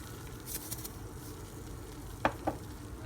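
Ground meat sizzling steadily in a pan for stuffed peppers, a constant soft crackling hiss close by, with a couple of sharp utensil clicks against the pan near the end.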